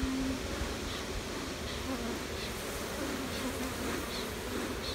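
Dense, steady buzzing of many honey bees around a hive during a fall inspection, continuous and close, with no voices.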